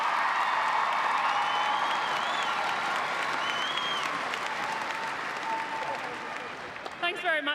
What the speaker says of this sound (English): Can you give the captain of the Melbourne Vixens a big round of applause?